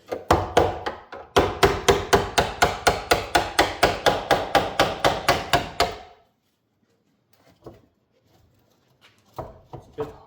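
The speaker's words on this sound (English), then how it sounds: "And now we just take a hammer and we push it between the" A hammer strikes repeatedly against the body panels of a 1982 Volvo 245 during rust repair, a fast, steady run of loud metallic knocks followed by silence and a few scattered taps.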